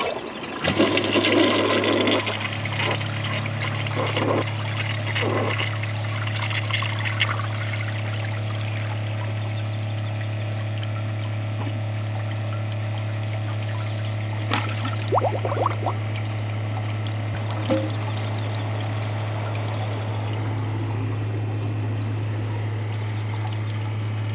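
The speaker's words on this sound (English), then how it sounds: "I'll give it a second flush after the tank is full for the older Kohler" Older Kohler Wellworth toilet giving a second flush: a loud initial rush of water, then a long steady refill stream and trickling as the tank fills, with a few faint clunks and no talking.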